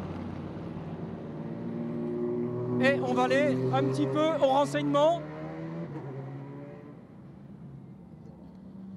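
Race cars at the 2014 24 Hours of Le Mans pass by with a droning, rising and falling engine tone that swells for a few seconds before fading, under someone speaking French.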